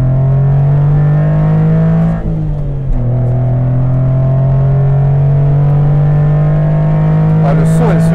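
A Honda Beat's small engine revs loud and close; the pitch dips briefly as the throttle is released to declutch, then settles back into a steady hum.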